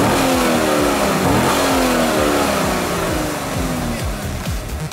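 A 2013 Chevrolet Camaro SS convertible engine revs loudly and repeatedly up and down, close and sustained, with no talking over it.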